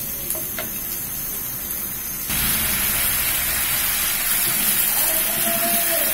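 Banana slices fry in oil in a covered pan with a steady hiss, and the sizzle swells louder about a third of the way through. No one speaks.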